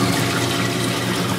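Water streams continuously across an LED algae scrubber screen in an aquarium setup, a steady close trickling wash with no talking.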